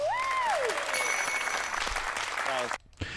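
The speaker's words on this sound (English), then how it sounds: "Polite applause. Probably recorded with a reduced audience because of COVID." Polite applause comes from a small studio audience recorded with reduced numbers, a steady patter of clapping under a voice, fading out near the end.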